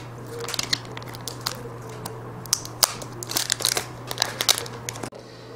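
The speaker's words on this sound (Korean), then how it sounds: "네, 비닐을 한번 개봉해 보겠습니다." Plastic wrap is torn off a Samsung Galaxy Z Flip box in a series of close, crisp crinkles and crackles over a steady low hum, with no talking, ending in a short quiet pause.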